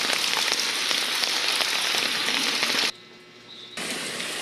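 Heavy rain pours down in a dense, steady hiss, loud and close, with a brief drop in intensity near the end before resuming.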